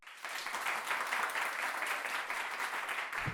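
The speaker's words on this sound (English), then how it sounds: "Let's give them a round of applause, everybody." Steady applause from a studio audience during a cooking show about Ćevapi, a dense wash of clapping that holds evenly for a few seconds and ends with a low thump.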